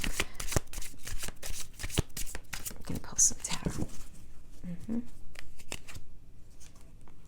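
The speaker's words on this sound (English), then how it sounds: "I want to pull some tarot" Tarot cards riffle and slap together in quick, close, papery bursts for several seconds, followed by quieter handling and soft rustles as the shuffling slows.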